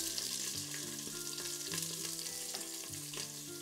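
Chopped onion sautéing in an Instant Pot as a chuck roast is browned, a steady close sizzle with faint tonal hum and occasional stirring scrapes, no voices.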